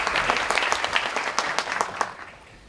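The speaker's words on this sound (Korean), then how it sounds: "박수시죠." An audience at an education forum applauds an introduced guest with scattered, fairly close handclaps that swell briefly and then fade out toward the end.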